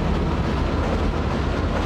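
A video game train rolls along steadily, a loud, continuous low rumble with faint rhythmic clatter, filling the moment without any voices.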